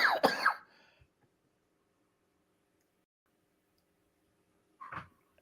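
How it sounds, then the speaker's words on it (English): A single short cough or throat-clear from a broadcaster during a live stream of a boys varsity hockey game, Chanhassen vs. Rogers, heard near and alone, set apart from a brief burst of speech at the start. "I almost made it without coughing."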